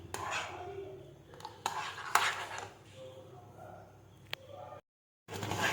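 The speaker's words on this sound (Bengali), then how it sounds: "এবারে কন্টিনিউ আমি এটাকে নাড়তে থাকবো" A spoon scrapes and knocks against a pan while stirring a sweet milk mixture for kalakand, the irregular strokes heard close and fairly quiet, broken by a short silent gap.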